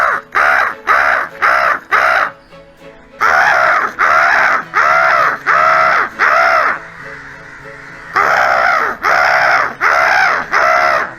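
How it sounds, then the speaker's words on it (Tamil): Crows called in from afar in open country, giving loud, close, rhythmic caws in rapid bursts of four to six calls, broken by short pauses and a quieter gap. "இப்போ நான் காக்கா கூப்பிட போகிறேன், எல்லாம் வரும்."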